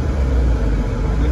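A 1987 Alfa Romeo Quadrifoglio engine pulling steadily in fourth gear, a low, even rumble heard from inside the car with no break in tone.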